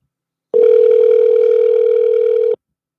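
A telephone rings while a call is placed back to someone: one loud, steady tone lasting about two seconds, alone, with silence before and after.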